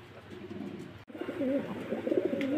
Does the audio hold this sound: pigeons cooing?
yes